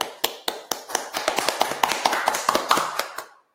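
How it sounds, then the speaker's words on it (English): Hands clap close by in a quick run of about fifteen sharp claps that gradually speed up and crowd together before stopping, with no talking. "Clap it up real quick."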